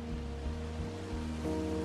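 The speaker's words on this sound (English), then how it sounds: "It's a really nice waterfall down here." A waterfall in the game Firewatch gives a steady, close rushing roar that stays even throughout, with a faint low tonal hum underneath and no talking.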